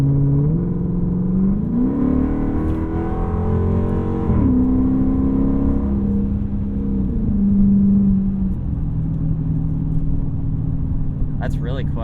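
A Dodge Charger Pursuit police car with a 5-speed automatic accelerates from inside the cabin, its engine tone climbing steadily through several gear shifts in a smooth, loud hum while people talk over it.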